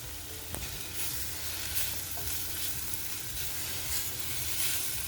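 Green chilies hit hot bulgur in a pan and sizzle steadily, a continuous close frying hiss with faint stirring scrapes throughout and no talking.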